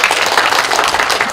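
An audience at a film screening and talk event claps to welcome guests onto the stage, a dense, loud, continuous burst of applause filling the room with no voices over it.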